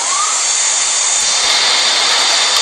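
Airliner jet engines roaring at full takeoff thrust in the Real Flight Simulator game at an international airport, a loud steady broadband roar with a high whine held throughout, no talk.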